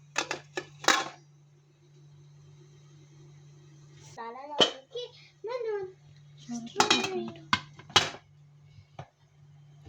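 Metal dishes clink and clatter in a few sharp bursts as a dish is set on a steamer pot over boiling water on a gas stove, over a low steady hum, with a person speaking briefly between the knocks.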